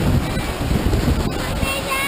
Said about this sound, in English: we're sitting right here at this beautiful waterfall coming down